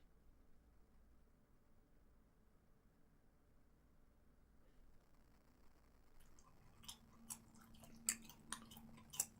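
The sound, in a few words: person chewing food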